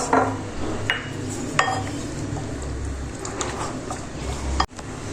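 Soy sauce, peri peri sauce and other ingredients for chicken Manchurian being stirred in a bowl, a steady close scraping and clinking of spoon against the dish with a few sharper taps.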